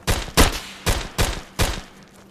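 Gunfire in the VR shooter Tactical Assault VR: five sharp, loud, close shots in an uneven rhythm, each with a short echoing tail, with no talk over them.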